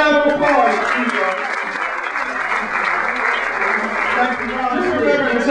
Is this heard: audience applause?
yes